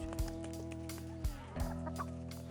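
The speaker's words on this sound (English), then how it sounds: "I'll just come out here and watch the chickens." Chickens cluck softly in a barnyard outside an office, the calls scattered over a steady low engine-like hum, with a few brief louder thumps.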